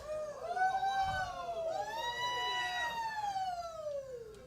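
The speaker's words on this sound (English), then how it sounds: "A fire truck." A passing fire truck's wailing siren sweeps up and down in pitch, loud and fairly close, with traffic rumble underneath.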